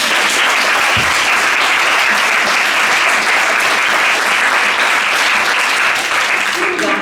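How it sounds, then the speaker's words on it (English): A large audience at a state poetry recitation final gives a big, sustained round of applause: thick, loud clapping from many people that continues evenly for several seconds, with faint crowd noise mixed in. "One just great big huge round of applause for everybody."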